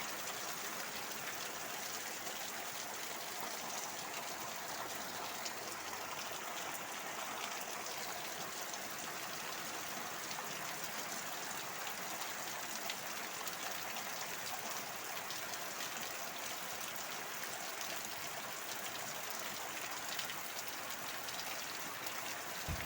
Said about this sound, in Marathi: मुसळधार पाऊस पडणार आहे